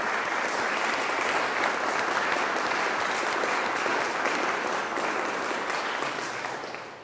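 A steady, full round of applause from an audience at a Philadelphia civic launch event, continuous and even for about seven seconds before tapering off slightly at the close.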